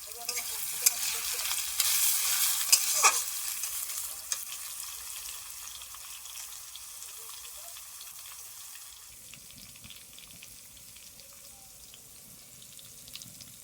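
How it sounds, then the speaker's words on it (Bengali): Onion frying in mustard oil over a clay stove for a chicken curry with elephant foot yam and potato, a soft steady sizzle with occasional stirring scrapes, louder at first and then settling into a quieter continuous crackle. "পেঁয়াজটা দিয়ে দিয়েছি পেঁয়াজটা ভালোভাবে ভাজতে দেবো"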